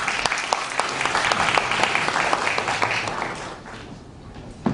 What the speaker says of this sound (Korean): 박수로 청해 모시겠습니다